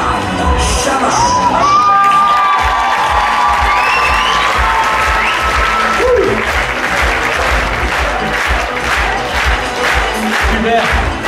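An audience at a live hypnosis stage show breaks into loud, sustained applause mixed with cheers, whoops and shouts, the clapping filling the room for the whole stretch.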